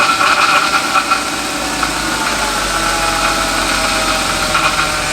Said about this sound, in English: The engine sounds still a little bit tappety